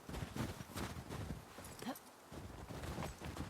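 Steady clip-clop of horse hooves at a walking pace in the video game The Last of Us Part II, close and continuous, with a soft rustling background.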